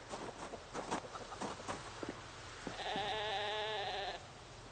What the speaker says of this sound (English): I don't actually recognize the sheep's stress noises anywhere near as much as other mammals.